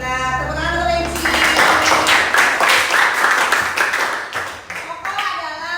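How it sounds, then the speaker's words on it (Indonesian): Classroom applause from students during an Indonesian school lesson, a short burst of clapping rising after a teacher's voice and fading, with speech around it. "Tepuk tangan untuk Lensi"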